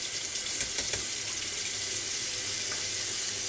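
Tap water runs steadily into a bathroom sink during a final rinse after shaving, a continuous close hiss and splash at even level with no talking.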